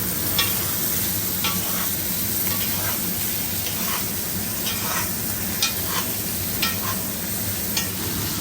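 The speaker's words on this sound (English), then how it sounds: "Baste our steak. This is why I use 30 grams of butter." Steak sizzling in a pan while being basted with butter, a constant crackling fry with periodic spoon scrapes and splashes as the fat is ladled over.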